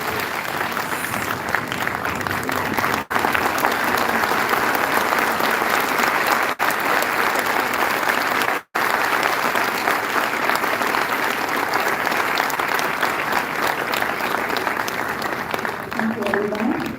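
A hall audience gives Dr. Sivan a standing ovation at an honorary doctorate ceremony at ITM Vocational University, with steady, dense applause sustained for many seconds and a few brief dropouts.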